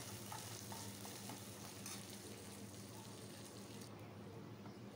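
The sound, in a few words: tempering spices and curry leaves frying in a pan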